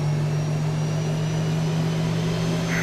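Boeing 737 in the X-Plane 12 flight simulator on its takeoff roll, a loud, steady engine roar with a strong sustained low hum holding constant and no voices.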